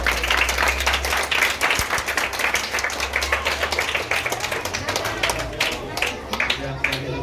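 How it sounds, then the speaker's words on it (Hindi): Audience clapping at a school admission festival and award ceremony, a dense, steady wash of many hands continuing throughout, with talk over the applause. "ताली बजाओ भाई।"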